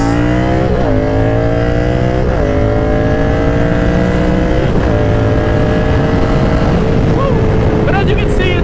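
Yamaha R7 sport motorcycle accelerating hard past a car, engine climbing through repeated upshifts with sharp rising whine and a brief rev blip near the end, loud and close over steady wind roar.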